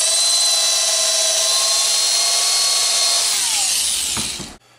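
A Lee case cutter and trimmer whines at a steady high pitch while trimming brass cases to 38 Short, loud and close, then spins down and stops near the end.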